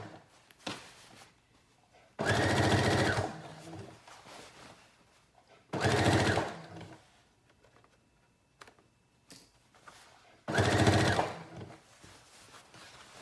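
A sewing machine stitches the hem of a high-waisted denim skirt in three loud, steady bursts of rapid mechanical whirring, separated by quiet pauses filled with small handling clicks.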